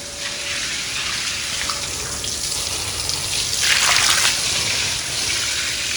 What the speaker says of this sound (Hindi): अभी जो है ना धुलाई हो रही है, वो भी सर्फ डाल के